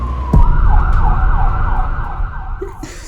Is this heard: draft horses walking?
no